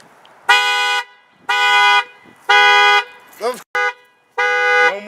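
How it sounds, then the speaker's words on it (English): Car alarm of a 2015 Nissan Quest sounding loud and close, a run of sustained horn-like blasts about a second each with short gaps, broken by a brief chirping sweep. "we have a high-class alarm system to keep the thieves away from this majestic vehicle"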